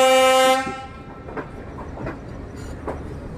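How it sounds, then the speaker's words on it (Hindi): Garib Rath Express 12984 on the Chandigarh–Ajmer route, running at about 100 km/h toward Ambala. A loud, steady horn blast opens, then cuts off into a continuous rolling rumble with periodic clickety-clack wheel beats, close and with no talk. "अभी हमारी ट्रेन जो है ना कुछ 100 की स्पीड में चल रही है"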